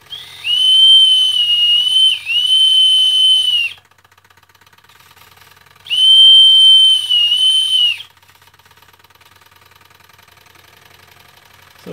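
Remote-controlled steam whistle on a modified Wilesco D305 model steam engine gives two long, shrill, steady blasts separated by a pause, with only a faint engine tick in the quiet gaps.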